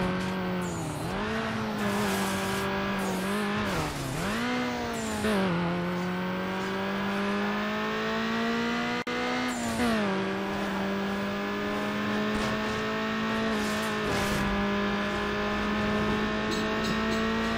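A Nissan 240SX engine in the Need for Speed Underground racing game revs and accelerates through repeated gear shifts, a loud continuous whine climbing in pitch with brief tire squeal, with no talk.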